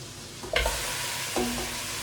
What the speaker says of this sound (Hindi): पहले चिकन को अच्छी तरह भून लूँगी।